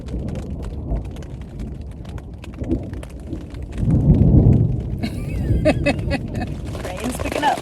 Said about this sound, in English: Rain's picking up.